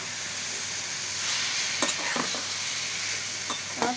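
Boiled helencha greens stirred into fried onions in a pan, a steady soft sizzle with a few scattered clinks and scrapes of the spoon against the pan.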